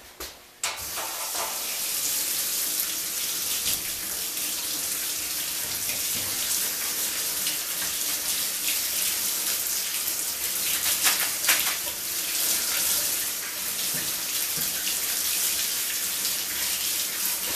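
Fresh mint leaves rinsed under a running kitchen tap, a steady loud hiss of splashing water lasting throughout with brief shifts as the leaves are moved, and no voices.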